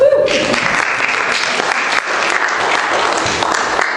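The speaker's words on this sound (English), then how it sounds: "Let's give Jeremy a round of applause" Audience applause for a man named Jeremy, a steady loud burst of clapping from a crowd that starts just after a brief tone and keeps going evenly to the end.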